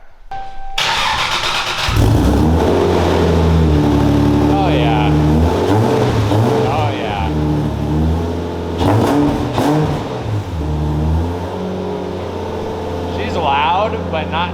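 A Lexus SC300 drift build with a stock exhaust starts up and revs, giving a loud, steady engine note with repeated throttle blips, while someone speaks briefly over it.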